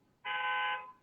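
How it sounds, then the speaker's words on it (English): A car alarm going off outside gives a single short electronic tone burst, steady and buzzy, lasting under a second and heard faintly in an otherwise quiet room. "Sorry, there's a car alarm."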